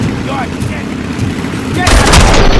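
Loud gunshots and heavy weapon fire in the video game RoboCop: Rogue City, a steady clatter that swells into a louder burst near the end, with voices shouting over it.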